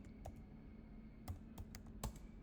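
A word is typed into a search box on a computer keyboard, heard as a few close, soft key taps spread unevenly over a couple of seconds against a low room hum.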